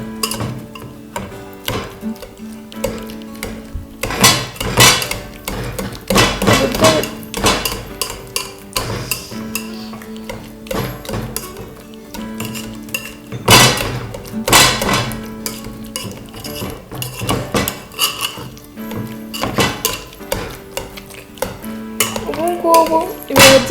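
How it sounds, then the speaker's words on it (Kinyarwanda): Boiled potatoes with milk are mashed in a metal pot, a masher clattering and knocking against the pot in repeated uneven strokes, close and loud, with brief pauses between bursts. "Turabinomba mpaka ibirayi"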